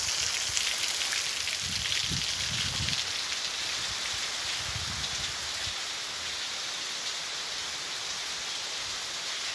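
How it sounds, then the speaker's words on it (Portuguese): Heavy rain pours steadily in Eunápolis, Bahia, a dense, even hiss that fills the whole stretch with faint low thumps early on. "Água boa, viu, cara? Chuvada boa."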